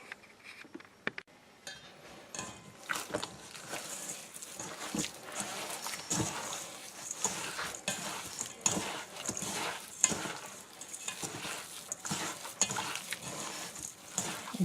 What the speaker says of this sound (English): And now I'm going to get in here and mix all this up.